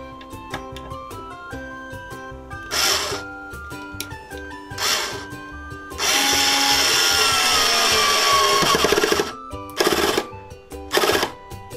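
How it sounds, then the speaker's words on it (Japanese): An electric screwdriver from a beginner DIY set whirs in several short bursts, then one longer run as a screw drives into wood, followed by two more quick bursts. "ではネジ締めていきます。"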